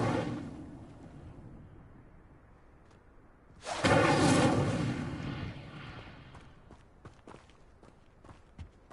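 A fire spell ignites a stone pyre in the game Hogwarts Legacy, with a sudden loud whooshing burst of flame that swells for about two seconds and then crackles and fades under a quiet ambient bed.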